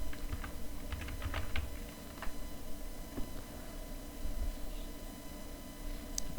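Keys clatter on a computer keyboard in short irregular bursts of soft clicks, close and fairly quiet over a steady background hum, with no voices.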